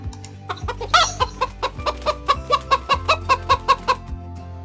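Chicken sound effect in a PowerPoint animation: a rapid, rhythmic run of sharp clucks, about a dozen in steady succession, close and clear with no talking.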